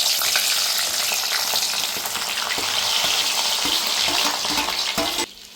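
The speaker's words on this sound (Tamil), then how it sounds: "எண்ணெய் காஞ்ச உடனே ஆனியன், டொமேட்டோ போட்டு வதக்க போகிறோம்." Onion and tomato frying in hot oil in a kadai, a loud continuous sizzle with occasional stirring scrapes that cuts off abruptly near the end, no talking.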